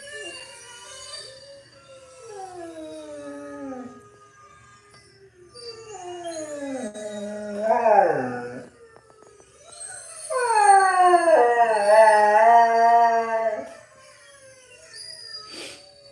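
A husky howls in long rising and falling wails, several drawn-out calls in a row with brief pauses between, close and clear with little else around.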